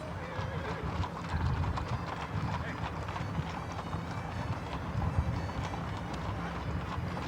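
Many horses galloping together on a Montana horse drive, a dense rumble of hooves with occasional whinnies, steady and continuous throughout.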